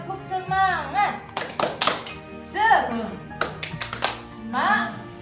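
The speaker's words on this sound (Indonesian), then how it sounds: "coba kita lakukan satu kali tepuk semangat" A group of mothers at a parenting training session does a rhythmic clapping chant, bursts of patterned hand claps mixed with chanted voices and speech close by.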